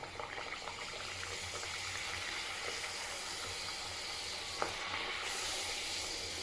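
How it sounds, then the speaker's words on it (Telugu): Millet masala puri frying in hot oil in a kadai, a steady close sizzling hiss throughout with one brief sharp crackle near the end. "ఇట్లా ఆయిల్ కడాయిలోకి వేసుకొని ఆయిల్ బాగా వేడెక్కినాక ఇట్లా వేసేసి ఫ్రై చేస్తాం."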